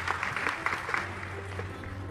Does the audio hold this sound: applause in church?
yes